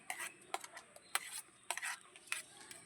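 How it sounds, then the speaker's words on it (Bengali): Palm pulp batter being stirred in a bowl for tal pitha, rendered as repeated close scraping and clinking strokes in an irregular rhythm, moderately faint with no voices. "এরপর আমি একটা গামলা নিয়ে নিয়েছি ব্যাটারটা গুলবো এখানে আমি দিয়ে দিচ্ছি তালের গোলাটা"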